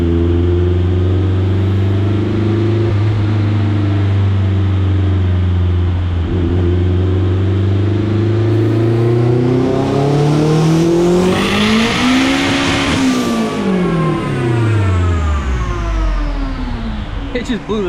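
A turbocharged Honda CRX screams at full throttle on a dyno, the engine note climbing steadily to a peak and then dropping as the tires break loose and spin, loud and continuous throughout.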